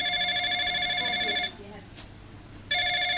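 A telephone rings loudly and close by in a steady electronic tone, sounding in two bursts separated by a pause of a little over a second.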